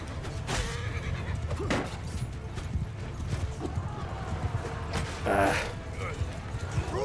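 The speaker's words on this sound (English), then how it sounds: "Get out of the way, horses." Horses whinny and snort amid galloping hooves during a medieval cavalry battle in Mount & Blade II Bannerlord, with a loud neigh near the end and clip-clop and clashing underneath.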